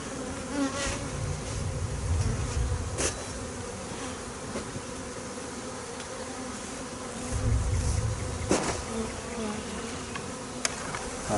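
A swarm of bees or wasps buzzes steadily around the front entrance of a hive during stormy, windy weather, a dense continuous drone with low rumbling gusts swelling in places.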